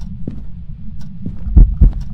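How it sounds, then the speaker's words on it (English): A heartbeat sound effect in the horror video game Phasmophobia: a low, muffled thumping under a steady hum, growing louder and faster toward the end with several close, heavy beats. "Heartbeat."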